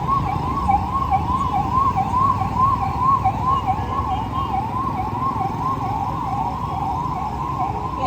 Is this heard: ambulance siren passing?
yes